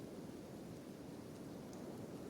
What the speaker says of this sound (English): Should be getting acid rain.